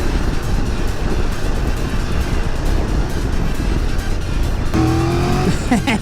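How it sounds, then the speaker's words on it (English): A Triumph motorcycle downshifts on a demo ride, loud engine and wind roar throughout, with a rising rev blip and gear change near the end. "This thing loves the downshift, man."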